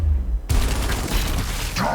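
Gunfire from the tactical video game Gears Tactics opens abruptly after a short lull, a rapid, loud burst of shots and clattering impacts that continues steadily to the end.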